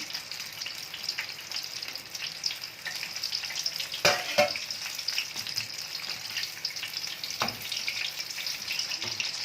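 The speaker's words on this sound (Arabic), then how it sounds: "انا بدات الاول احمر باللحمه الاول" Meat-filled sambousek frying in a pan, giving a steady, dense sizzle with crackling oil throughout, plus a couple of brief clinks or stirring knocks partway through; no voices.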